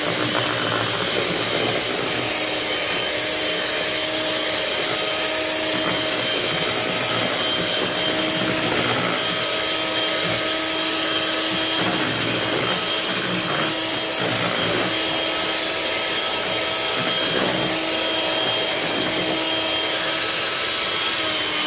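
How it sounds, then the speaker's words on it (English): An electric hand mixer whirs steadily in a bucket of homemade laundry detergent, a continuous motor drone with scraping, sloshing texture and brief dips as the beaters shift, loud and close with no talking. "And I'm just going to use my hand mixer,"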